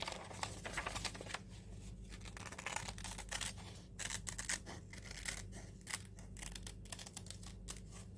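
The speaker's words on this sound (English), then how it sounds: "I'm using my nail scissors just because it's easier for me." Small scissors snip paper in quick, irregular bursts of crisp clicks and rustles, close up and fairly quiet over a low background hum.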